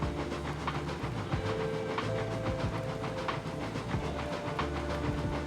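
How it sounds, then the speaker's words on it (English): Train rolling over repaired track in the railroad simulation game Railroads Online with the Eureka engine, a continuous rumble with steady clickety-clack wheel beats and faint hiss, moderately loud and unbroken. "almost the entire train is through now"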